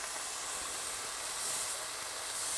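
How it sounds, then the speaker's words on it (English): Strips of turkey bacon sizzle over low heat in a pan, giving a steady, faint, airy hiss that holds for a couple of seconds with no talk. "we're going to put on our strips of turkey bacon here. We hear the nice sizzling sound."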